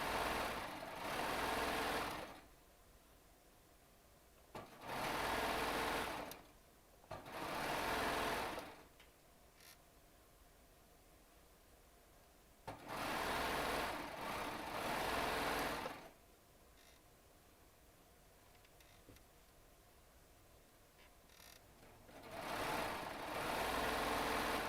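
A Baby Lock Triumph serger stitches in five separate high-speed bursts of rapid mechanical whirring, each lasting one to three seconds, with quiet pauses between them. The sound is close and moderately loud, with no voices.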